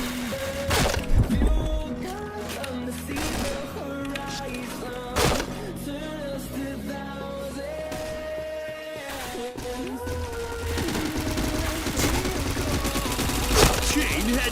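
Rapid bursts of gunfire in the shooter game Point Blank, with sharp repeated shots and rattling volleys over game music and effects, and a player talking intermittently in the background.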